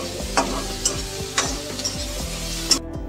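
Onion frying and being stirred in a pan for a Marathi kurdu leafy-vegetable dish, a steady close sizzle broken by several sharp scraping stirs of the spoon against the pan.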